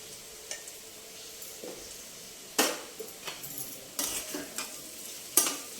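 A spoon stirs masala with broad beans frying in a pan, producing intermittent scrapes and sharp metallic knocks against a soft sizzle, close but fairly quiet, with no voices.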